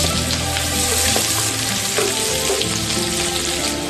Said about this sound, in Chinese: 倒入葱姜蒜炒香